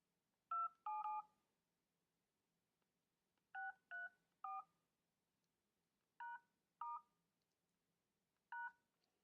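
Keypad tones sound on an LG L80 phone as a code is entered: short, clear beeps come singly and in pairs with pauses between them, in a quiet room.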